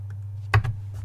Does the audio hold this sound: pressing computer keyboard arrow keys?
yes